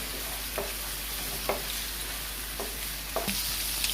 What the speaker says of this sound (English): Just going to saute these a little before adding my minced beef.